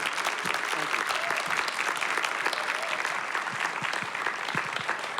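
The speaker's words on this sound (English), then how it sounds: "a round of applause for Roger Schulman" Audience applause for screenwriter Roger Schulman at a library event: dense, sustained clapping from a roomful of people, steady and fairly loud from start to finish.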